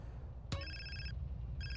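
Electronic phone ringtone in GTA San Andreas, a sharp click followed by two bursts of bright, steady tonal ringing separated by a short gap, heard over low background game rumble.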